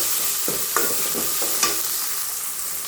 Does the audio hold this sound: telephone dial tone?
no